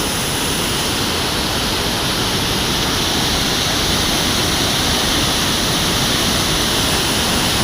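A powerful, constant roar of water rushing out of Takali Dam, loud and unbroken, like a torrent surging through a spillway.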